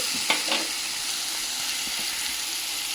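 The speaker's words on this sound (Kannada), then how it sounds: "ಆಮೇಲೆ ನಾನು ಪನ್ನೀರನ್ನ ಸ್ವಲ್ಪ ಫ್ರೈ ಮಾಡಿ ಆಮೇಲೆ ಒಗ್ಗರಣೆಗೆ ಹಾಕೋದು" Paneer fries in butter in a pan, a steady close sizzle with a couple of soft stirring scrapes near the start.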